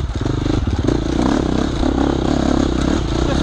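A motorcycle rides an off-road race track, its engine droning loud and close with steady revving and a few throttle surges, plus faint clatter from the rough ground.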